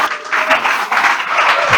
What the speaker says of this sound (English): so with a round of applause